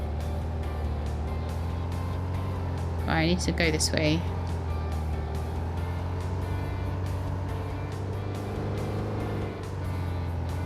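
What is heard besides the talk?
cars driving fast in the video game VoxelTurf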